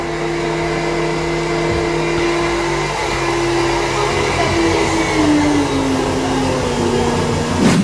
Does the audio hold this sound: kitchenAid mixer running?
yes